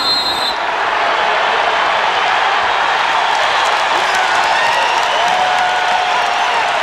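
Crowd noise fills the arena at a college wrestling dual between Iowa and Iowa State in 1994, a steady loud roar of cheering and applause throughout with no clear break.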